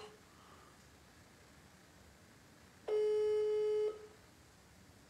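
One steady electronic mobile phone ring tone sounds for about a second against faint background noise.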